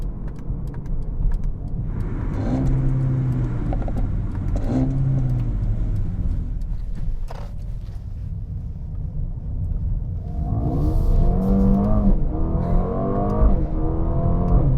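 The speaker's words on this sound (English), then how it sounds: "Driving 10 kilometers an hour, like 90-degree or more lock on the steering wheel, and just floored it" A Mercedes-AMG CLA35 is floored from about 10 km/h with the steering wheel turned hard, its engine rumbling and rising in pitch through several revving gear pulls, loud and steady from inside the car.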